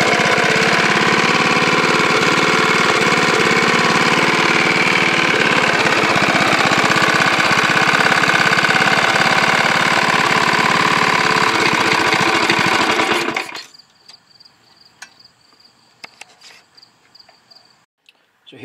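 Small engine running on a connecting rod journal repaired with JB Weld, a steady loud broadband drone that holds for about thirteen seconds and then cuts off abruptly, leaving faint ticks and near-silence.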